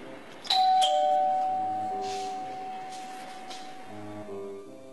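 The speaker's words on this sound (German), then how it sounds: "Dann klingelt bald der örtlich ansässige Geheimdienst an der Tür." A doorbell sounds nearby with a clear electronic ding-dong tone that rings out and fades slowly over several seconds, with no speech.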